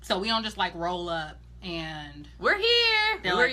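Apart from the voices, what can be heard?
No distinct noise like a dog, phone or traffic.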